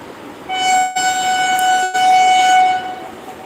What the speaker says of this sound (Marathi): डबल डेकर ट्रेन चालली बघा